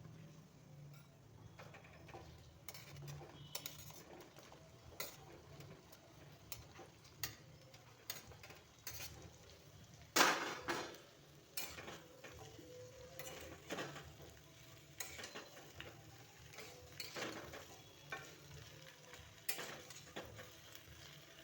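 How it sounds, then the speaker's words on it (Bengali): Pumpkin pieces with shrimp are stirred in a pan, giving faint, irregular clicks and scrapes of a utensil against metal, with a louder clatter midway and a low, quiet frying hiss underneath. "কষানো হয়ে গেছে, এখন কুমড়োগুলো এতে দিয়ে দিচ্ছি।"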